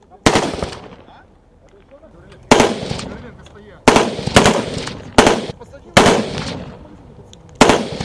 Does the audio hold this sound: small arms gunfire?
yes